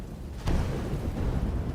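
Thunder from purple lightning at Thunderstrike Peak in V Rising rolls in as a single sudden crack followed by a deep, sustained rumble, with no other sounds over it.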